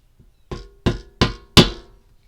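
Four sharp metallic hammer taps, evenly spaced and growing louder, as a part is tapped into place on a Trailblazer V8 engine during an oil pan rebuild; close and clear with no talking.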